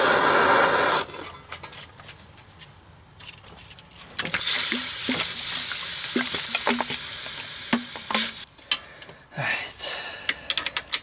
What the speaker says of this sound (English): Alright, so I'm gonna throw some water on it.